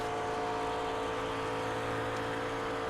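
A McLaren MP4 race car in iRacing at Fuji runs flat out in sixth gear, its engine a steady, loud, unbroken high-revving drone throughout.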